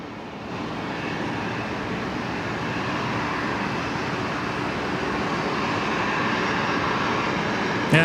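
A departing airliner at Brisbane Airport roars in a broad, steady wash of jet engine noise, loud and sustained, building slightly across eight seconds with no talk over it.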